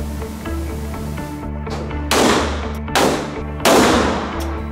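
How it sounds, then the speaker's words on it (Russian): Three loud gunshots spaced about a second apart, sharp and close, over a steady low hum with some background murmur. "Аккуратно и медленно выжимай курок."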